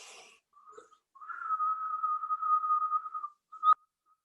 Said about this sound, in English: breathe in and out through those whistling breaths